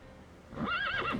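Striped horses in the video game Reverse 1999 give a single loud whinny, a high wavering neigh that rises and trembles for about half a second over a steady game background, with no speech.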